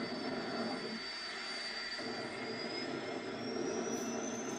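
Jet funny car jet engines spooling up, a steady broad roar with a rising high whine that climbs slowly in pitch, loud and continuous.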